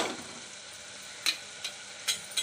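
Homemade masala with Kashmiri red chili powder, cumin powder and turmeric going into sautéed vegetables for veg pulao, a soft steady sizzle with a few light clinks of a spoon against the pan.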